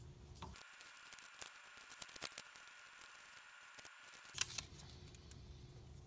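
Scissors snip through paper in quiet, irregular cuts while a paper picture of a head is cut out, close up and with no talking.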